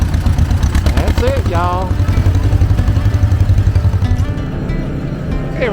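John Deere 420 tractor engine running steadily in an antique tractor parade, a continuous low putter under a voice speaking close by and crowd noise.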